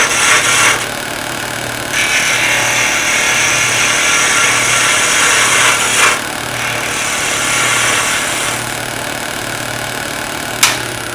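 Wood spinning on a lathe while a chisel takes a planing cut, giving a steady broadband hiss and shaving rasp over the motor's low hum, rising and easing in several passes with a brief sharp scrape near the end.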